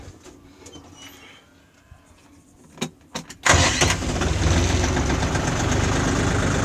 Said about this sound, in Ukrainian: Ну що, заводимо апарат цей.